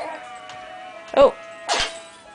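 A small child's sneeze, close by, comes as two quick bursts about half a second apart over a quiet indoor background with a faint tonal hum.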